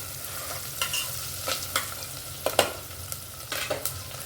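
Dal khichdi ingredients with potatoes fry in a pan as a spoon stirs them, giving a soft steady sizzle broken by a series of close scraping and clinking strokes against the pan, with no voices.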